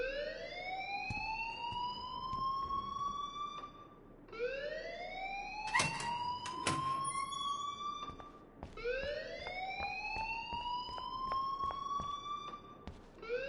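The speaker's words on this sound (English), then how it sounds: "please turn off that alarm since that's your job" A school fire alarm in the video game Life is Strange wails in rising electronic sweeps that repeat about every four seconds. It sounds loud and steady, with a few sharp clanks heard over it.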